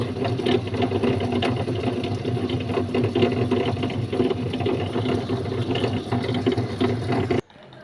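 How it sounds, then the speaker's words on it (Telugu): A wet grinder churns soaked urad dal with water added bit by bit for batter, a loud steady mechanical whirr and slosh that runs continuously, then cuts off abruptly at the end. "గ్రైండర్లో కొంచెం కొంచెంగా వాటర్ వేసుకుంటూ మెత్తగా ఆడుకోవాలి"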